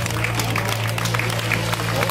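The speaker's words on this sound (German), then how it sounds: "Applaus!" Crowd applause rises at an outdoor craftsmen's guild gathering in Erkrath as guild signs are hung on a pole. The clapping is a dense, steady wash running the whole time over a constant low hum.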